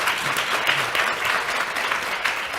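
An audience at a panel discussion on gender-based violence breaks into steady, dense applause, many hands clapping together at an even level from start to finish with no voices over it.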